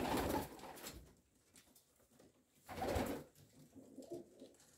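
Breeding tumbler pigeons in a loft coo in two close, throaty bursts separated by a quieter pause, with faint soft rustling between calls and no speech.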